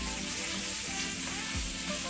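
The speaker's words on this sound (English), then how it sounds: "This is frying bacon." Steady crackling sizzle of bacon frying in a pan, continuous and close, with a few soft scraping stirs.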